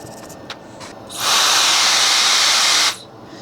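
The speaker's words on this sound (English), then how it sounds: "this is just a very small electronics handheld Dremel. And I'm just using this to expose the copper." A small handheld electronics Dremel rotary tool grinds into a circuit board to expose copper, a loud steady high-pitched whine for about a second and a half after a few faint ticks, then cutting off.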